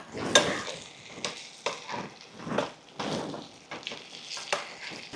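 Raw mango pieces stirred and frying in a pan, with a spoon scraping and stirring in uneven strokes over a soft, close sizzle and no talk.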